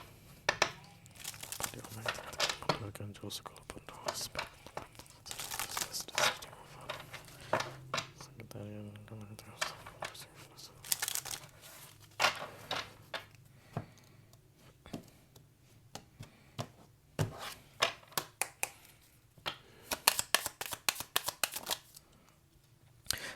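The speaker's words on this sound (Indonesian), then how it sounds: "Kita lihat satu kartu lagi guys." Tarot cards being shuffled and drawn at close range, rapid riffling and crisp slapping bursts with a few quiet gaps, alongside soft talking.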